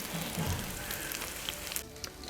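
Potato tikkis deep frying in hot oil, a steady close sizzle and crackle with small pops throughout, alone without talk.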